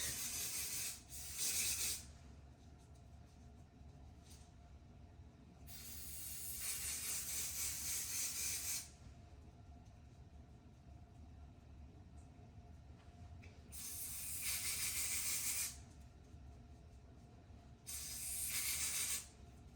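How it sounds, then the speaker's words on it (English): Bursts of lace adhesive hold spray hiss close by during a wig install, several long sprays separated by pauses, over a low steady background rumble. "Next, we're gonna take our Even Wonder Lace Bond Supreme Hold spray."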